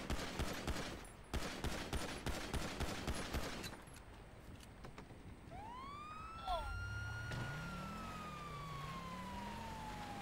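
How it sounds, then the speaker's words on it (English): Bursts of rapid gunfire in a police roleplay game, GTA, hit a police vehicle in loud clustered volleys, then a police siren wails and sweeps up and down as the shooting stops. "He's gonna be shooting my vehicle."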